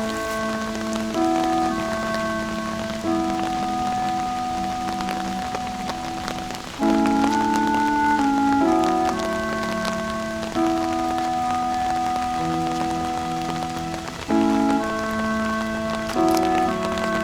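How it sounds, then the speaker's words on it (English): Harsh rain falls steadily outdoors as a continuous hiss under sustained musical tones, staying loud and even throughout. "Harsh rains."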